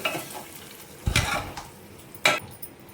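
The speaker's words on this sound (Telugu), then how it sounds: "ఇలా వేగిన పోపుని పప్పులోకి వేసుకొని ఒక 2 మినిట్స్" Hot fried tempering tipped into tamarind-leaf dal gives two sharp, loud sizzling bursts about a second apart, each fading quickly, with faint stirring and pan clatter between them.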